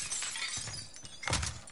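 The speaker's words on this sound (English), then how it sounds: "I hear glass." Glass shattering in the Warzone video game, two noisy bursts of breaking and crunching glass, the second louder, set against steady game ambience with no voices.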